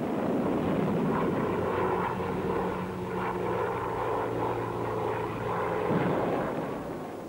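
Propeller aircraft from Spanish Civil War era footage drone steadily overhead, a continuous loud rumbling engine hum with a sustained low tone that holds throughout and dips slightly near the end.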